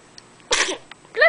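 A single close, loud sneeze bursts out indoors, followed shortly by a second short vocal burst, with near silence around them.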